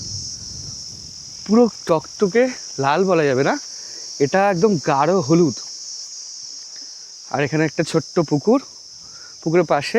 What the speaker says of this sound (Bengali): উপরে কিন্তু ঝিঝি ডাকছে